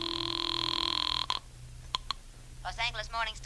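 A telephone rings in a house in an old radio detective drama, a steady electric bell tone that cuts off, followed by a couple of clicks as the receiver is lifted and a voice begins speaking.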